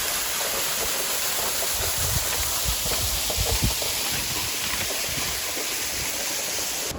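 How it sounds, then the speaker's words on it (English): Dudhsagar waterfall in Goa in the monsoon: a steady, dense roar of heavy falling water, loud and unbroken for the whole stretch, with no voices over it. "at Dudhsagar Waterfalls."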